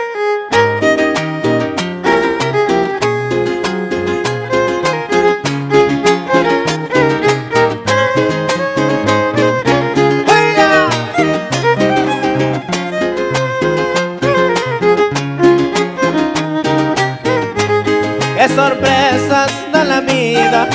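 Cumbia song played by a string trio, with busy bright strings over a steady danceable bass pulse, loud and continuous from start to finish.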